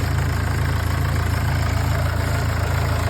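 Mercedes 2.2 engine idles after its timing chain tensioner was replaced, a steady, rapid low mechanical chatter with an even rhythm, close and continuous, with no talking.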